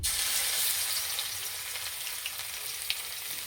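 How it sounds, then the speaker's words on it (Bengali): Crushed garlic sizzles in about two spoonfuls of hot oil, a steady dense frying hiss close up with faint stirring clicks, no voices. "তেলের মধ্যে দেবো কোচানো রসুন"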